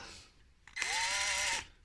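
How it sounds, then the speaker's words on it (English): A power drill bores into a 3D-printed robot foot part in one close, loud burst of just under a second, whining steadily at a high pitch before it spins down. "They're probably going to need to be drilled. Just give them a drill."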